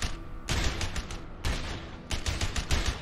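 Rapid bursts of video game gunfire crackle in quick volleys with short gaps between them, loud and close, alone without talk.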